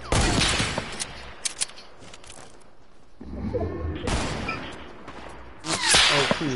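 Video game gunfire in a duos match, sharp bursts of shots and rapid volleys recurring through the clip, loud and close, with brief quieter gaps between the salvos.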